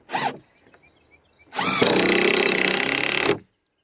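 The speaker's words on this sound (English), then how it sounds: "So now he's using 3-inch long screws to screw these boards to these boards." A power drill drives 3-inch screws through boards while a chicken coop is being built. A short first burst is followed by a pause and then a loud, steady two-second whir that stops abruptly.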